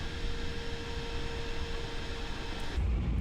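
A B-2 Spirit stealth bomber in Microsoft Flight Simulator, with its speed brakes fully deployed and throttles at idle, gives off a steady broadband rumble and hiss, with a low surge near the end.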